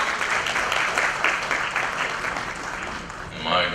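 Audience applause at a ministerial address during a corporate social responsibility leadership summit in India, a steady dense wash of many hands clapping that carries on evenly throughout and swells slightly near the end.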